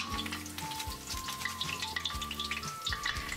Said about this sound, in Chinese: 一直把这些配料炸到颜色干黄，里面的香味完全炸出来后